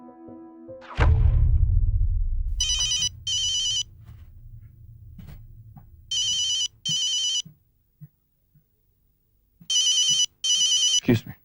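Telephone ringing in a domestic drama scene, three paired bursts of electronic ring tone separated by pauses, preceded by a heavy low thud and rumble, fairly loud and clear.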